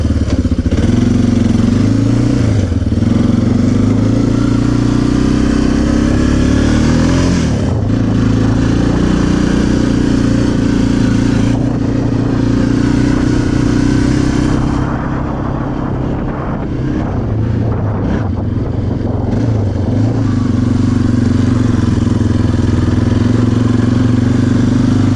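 A 1993 Yamaha Kodiak 400 ATV being ridden after repairs, its engine droning loudly and steadily up close, rising and falling with throttle changes and a brief easing around the middle, with faint clatter and no talking.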